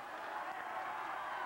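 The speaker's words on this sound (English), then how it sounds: "Boy, you can hear the crowd here in Knott County." Dense, steady roar of a high school basketball crowd in a Knott County gym, Knott County Central against the Belfry Pirates, sustained at an even level with no clear individual voices.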